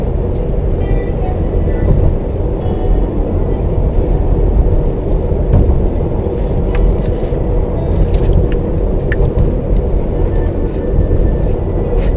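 Steady low road and engine rumble inside a Subaru equipped with EyeSight ver.3 cruising on a highway, with constant tire and wind noise and no one speaking.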